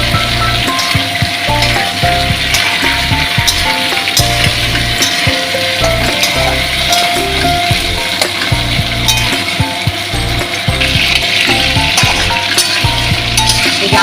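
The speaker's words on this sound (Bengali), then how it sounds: "দেখো আলুটা ভাজি।" Potatoes frying in dark oil previously used for frying shrimp, a loud, steady sizzle with occasional utensil taps and stirring, continuous and close with no voices.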